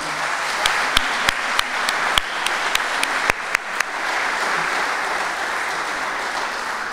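Audience applause at an international accordion gala, a steady wash of clapping with a few sharp, louder claps standing out near the front, no voices, holding evenly throughout.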